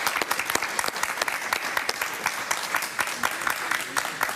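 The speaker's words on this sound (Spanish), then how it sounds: "Un aplauso para Ramfis, por favor" Audience applause during an interview event, a sustained burst of many hands clapping with sharp individual claps standing out, fairly loud and continuous for several seconds.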